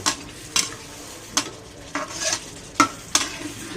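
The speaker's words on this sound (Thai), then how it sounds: "ผัดให้ทุกอย่างเข้ากัน" Canned fish stir-fried with holy basil in a pan, loud bursts of scraping and clanking from the spatula over a steady sizzle, repeating every half second or so.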